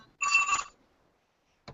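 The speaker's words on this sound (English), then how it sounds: "Phone ringing." Telephone ringing, a single short electronic ring burst, loud and close, followed by silence and a brief click at the end.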